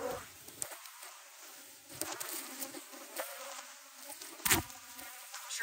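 Honey bees hum and buzz close by around an open hive, a soft, wavering drone with occasional louder fly-past passes.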